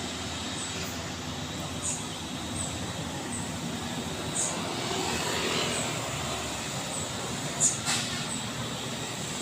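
Steady, fairly faint engine drone of a Pertamina tanker truck slowly climbing a steep hill, with a low rumble that holds throughout and occasional brief higher-pitched sounds.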